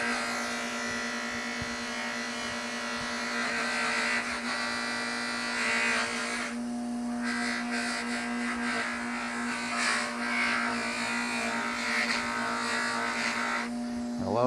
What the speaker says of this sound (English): this is just the coarse wheel that we're working with